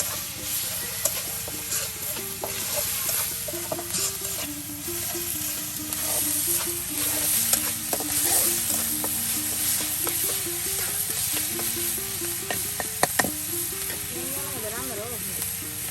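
Spice paste with onion paste sizzles and fries in oil while being stirred, a steady close hiss with scraping strokes throughout, part of cooking beef with bottle gourd in a village kitchen; faint voices and background music are under it.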